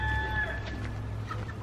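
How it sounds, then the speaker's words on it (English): Chickens let out of their pen at a family home give a brief burst of soft clucking over a low steady background hum, close by and without speech. "the chickens are out."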